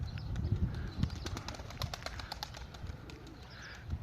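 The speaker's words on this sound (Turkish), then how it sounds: "Kuş bir tanesi daha kalktı ama uçması damızlı kuş" Pigeons around a loft, with soft wing flaps and faint coos over low outdoor rumble. A bird rises and beats its wings in brief bursts close by.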